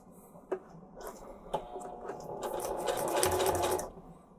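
A heavy-duty Singer sewing machine stitches through spacer mesh, 6 mm PE foam, 200–400D fabric and webbing, with a couple of sharp clunks before a sustained, close, rapid whirring run.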